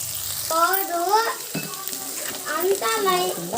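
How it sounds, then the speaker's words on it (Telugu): Onions and green chillies frying and being stirred in a pan give a steady sizzle, with a voice talking over it in two stretches. "కలుపుకుంటూ వేయించుకోవాలి"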